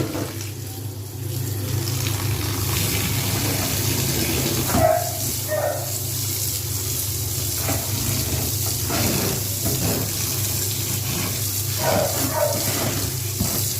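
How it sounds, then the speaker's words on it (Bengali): Tap water runs steadily into a sink while red amaranth greens are washed, with close splashes and handling noises over the constant flow and no talking. "পুরো শাকগুলো পরিষ্কার হয়ে সুন্দর করে একটু ধুয়ে নেব"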